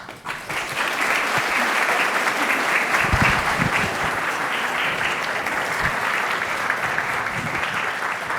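An audience breaks into sustained, dense applause to welcome Dr. Amy Greenberg, the clapping holding steady and loud across the whole stretch with no voices over it.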